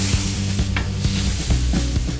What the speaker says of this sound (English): we're just gonna sear it a couple minutes on each side